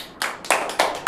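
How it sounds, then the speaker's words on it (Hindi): A classroom of children gives a short burst of applause for a group, heard as four distinct rhythmic clapping beats in a row, close and fairly loud. "ग्रुप 3 के लिए जोरदार ताली बजाइए"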